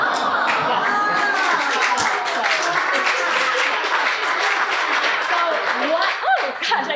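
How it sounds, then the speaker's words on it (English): Audience applause, a dense sustained clapping from a crowd that stays loud and even throughout before thinning slightly at the end, with faint voices mixed in. "Gosh, I did not expect that there would be a little lull for the applause."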